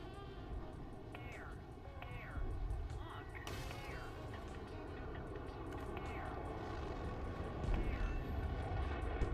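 An F4 Phantom jet engine running on afterburner in War Thunder, a steady loud broadband roar that holds throughout, with brief sweeping tones and faint voices underneath.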